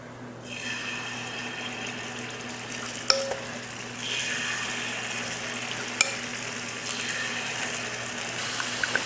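Paniyaram batter poured into hot oil in a paniyaram pan on a stove, sizzling steadily and loud with broadband crackle, with fresh surges of sizzle around each pour and a few sharp clinks.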